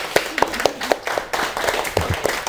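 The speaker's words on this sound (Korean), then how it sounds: "박수 한번 칩시다." A lecture audience at a coding class claps in scattered, uneven bursts, individual hand claps sharp and distinct, moderately near, with no voices over them.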